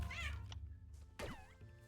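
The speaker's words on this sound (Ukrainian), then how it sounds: "О, котик." A cat meows twice in the video game Bō: Path of the Teal Lotus, a short cry followed by a longer rising-and-falling one, over a steady low background hum.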